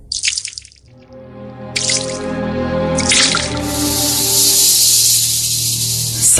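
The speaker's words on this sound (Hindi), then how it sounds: "सिंक से गंदे काले बदबूदार खून की बूंदे टपकने की आवाज।" Liquid dripping into a sink, a steady trickle and splash that builds into a continuous running-water hiss, close and moderately loud, with no voices.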